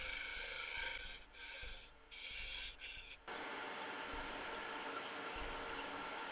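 Woodturning lathe spinning a laburnum goblet blank while a gouge shapes the cup, a faint steady scraping hiss that breaks off and comes back a few times, then settles into a smoother whir.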